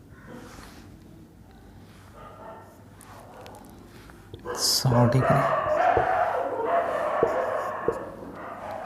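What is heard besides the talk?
dog barking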